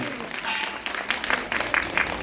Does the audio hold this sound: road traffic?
no